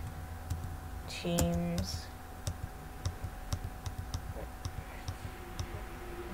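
Clicky computer-keyboard typing comes in a quick run of taps while entering a Minecraft command, close and fairly soft, with someone talking over parts of it and a short tonal blip near the start.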